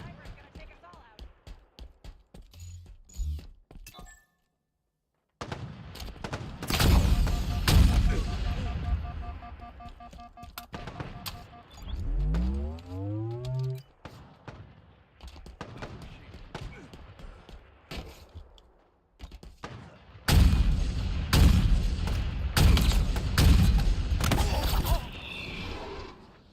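Heavy sniper rifle fire booms in Halo Infinite ranked snipers multiplayer, loud thumping shots mixed with game announcer lines, sweeping effects and talk throughout.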